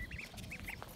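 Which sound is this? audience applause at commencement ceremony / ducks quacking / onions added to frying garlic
ducks quacking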